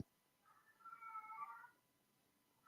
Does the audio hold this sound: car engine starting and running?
no